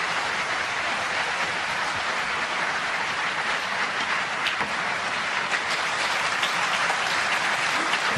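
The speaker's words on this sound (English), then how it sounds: "Well, applause on both tables." Continuous, dense applause from the audience at the 2023 World Snooker Championship fills the arena evenly for the whole stretch, a steady hiss-like roar of many hands.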